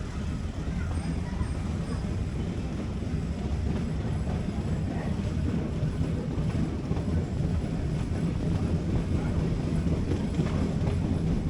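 A meter gauge train runs from Junagadh to Sasan Gir at about thirty kilometres per hour, giving a continuous low rumble and rattle that stays steady and fairly quiet throughout, with some talking over it.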